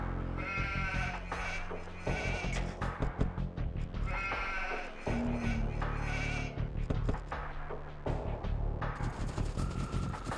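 Sheep in Age of Empires 2 bleat in short, repeated calls over busy game music and effects during a Khmer match on a Gold Rush map, moderately clear amid the mix, with no talking.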